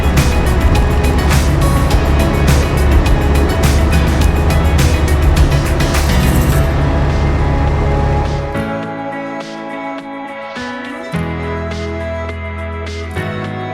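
Tecnam P2002JF light aircraft engine at takeoff power: a loud, steady, close propeller-engine drone with a constant rhythmic buzz, its tone shifting partway through as the sound thins out.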